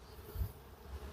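Honeybees buzzing around a hive as they are knocked off a frame, a brief, faint hum with a low thump partway through.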